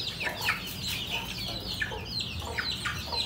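Hens cluck in short, scattered bursts against a faint farmyard background, some calls near and others further off, with no talking, as a mother hen and her chicks are handled.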